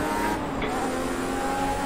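Race car engine in the video game Project CARS 2, a steady high-pitched drone at sustained revs, fairly close and even, with a brief dip partway through.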